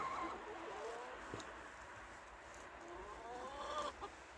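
Chickens clucking softly at a distance in a coop in winter, scattered murmuring calls over a quiet, faintly noisy background.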